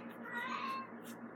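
A pet cat gives a single drawn-out meow, close and fairly quiet, with no one talking.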